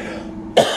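A single short, raspy cough from a man congested by dust, close and loud, following a brief quiet moment.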